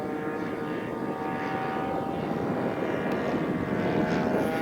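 Engine of a model MiG-3 airplane on its maiden flight, a steady droning whine that holds continuously at moderate distance with no talk over it.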